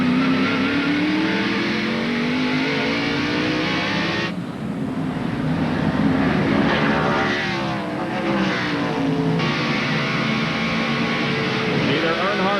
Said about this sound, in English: He closes right in on the back bumper of Mark Martin.